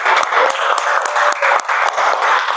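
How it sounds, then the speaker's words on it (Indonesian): Applause from a classroom of students fills the room for student groups: steady, dense clapping with brief dips, loud and close, with no talking over it. "Kita berikan aplaus bagi kelompok satu dan kelompok empat dulu"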